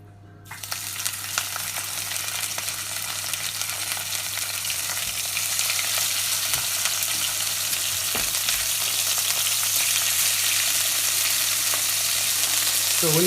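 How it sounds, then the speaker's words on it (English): A salmon fillet sizzles steadily in a hot pan, the loud frying hiss starting abruptly and continuing close and unbroken throughout. "when you put your fish on, so straight away you're gonna press the fish"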